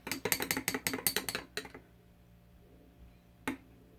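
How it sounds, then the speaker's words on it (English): Mixture being shaken in an old pill bottle, a quick run of about a dozen sharp rattling clicks that stops, followed by one more isolated click after a quiet pause, close by with no talk. "I'll put it in there and shake it until I get it the consistency I need"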